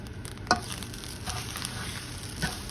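Egg frying in a pan with chicken fried rice, a soft steady sizzle with a few light scraping stirs and utensil clinks, fairly quiet and with no talking.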